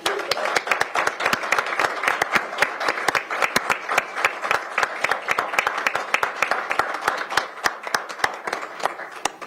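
Applause from attendees at a Pierce County Council meeting, a steady round of many hands clapping close by for about nine seconds with no talk over it.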